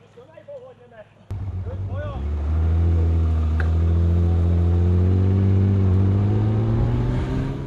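A motorcycle serving as a camera vehicle on a road fires up after a short spoken passage, then idles and revs into a loud, steady, close engine rumble.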